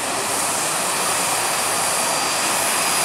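Twin turbine engines of a large RC model helicopter, Bell 206 or 47 scale, spooling up at a flying show: a steady, loud turbine whine and roar with a high tone, continuous throughout.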